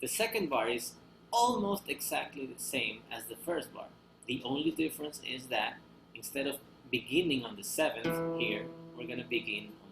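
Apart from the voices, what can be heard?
No distinct noise like a dog, phone or traffic.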